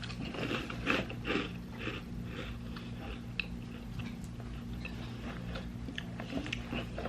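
Someone crunches dry Chips Ahoy cereal during a taste test, with repeated close chewing and biting crackles in an irregular rhythm over a steady low room hum, and no talking.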